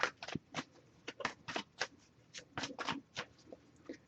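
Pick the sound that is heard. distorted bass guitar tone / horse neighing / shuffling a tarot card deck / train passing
shuffling a tarot card deck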